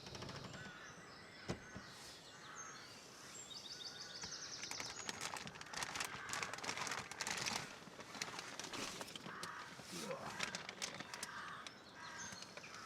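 Crows caw faintly outdoors on a rainy countryside walk, with scattered calls over a soft, steady wash of rain and rustling, distant and quiet throughout.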